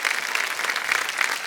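Studio audience applause on a TV quiz show after a contestant wins one crore rupees: dense, even clapping from a large crowd, loud and sustained across the whole moment.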